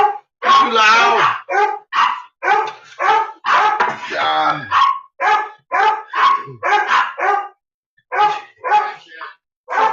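An excited female dog barks close and loud in a rapid series of sharp barks and yips that keeps going for the whole stretch, with only brief pauses.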